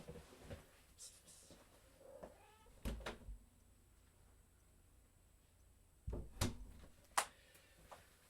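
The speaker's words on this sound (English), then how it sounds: "I'm just going to let my cat out of the room." An indoor house cat gives a few short meows near a door being opened to let her out, faint and spaced apart, with a couple of sharper thumps and clicks in an otherwise quiet room.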